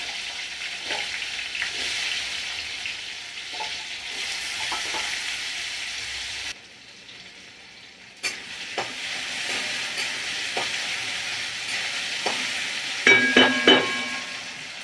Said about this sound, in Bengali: আলুগুলো ভাজতে দেবো।